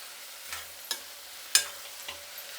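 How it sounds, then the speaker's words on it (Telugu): Tamarind and cucumber being fried and stirred in a pan for chutney, with a few distinct scrapes and clicks over a quiet, faint sizzle, no talking. "చింతపండు వేసాం కదా, కొంచెంసేపు వేయించుకుందాం."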